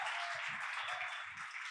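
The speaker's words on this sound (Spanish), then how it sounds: "Un aplauso para Manu." An audience claps for a guest invited up to the stage at a live talk, a steady, fairly loud wash of applause lasting under two seconds with no voices over it.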